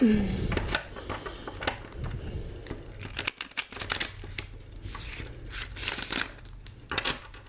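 A Sacred Geometry Oracle deck of thin, lightly coated cards is shuffled by hand up close, giving crisp papery riffles, slides and flicks in uneven bursts, with no speech over them.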